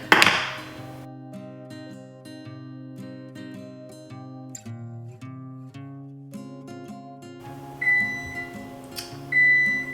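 A kitchen oven preheated to 350 degrees for baking einkorn almond cookies gives two short electronic beeps near the end, heard over a steady melodic background music bed with light clinks and taps.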